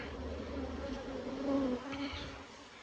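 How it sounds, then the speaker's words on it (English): Steady buzzing of honeybees around an opened hive during a honey harvest, a low droning hum with a few louder passes close by, continuous throughout. "I did shake some bees to the ground on accident"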